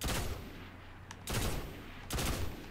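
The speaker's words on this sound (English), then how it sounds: "that was the Red Death exotic pulse rifle" The Red Death exotic pulse rifle in a video game fires in rapid bursts, with dense crackling volleys separated by brief pauses, loud and close.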